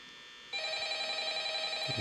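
A telephone rings in the horror video game Five Nights at Freddy's. After a brief quiet lead-in, a steady electronic ringing tone starts and holds, moderately loud and unaccompanied, with a faint low thump near the end.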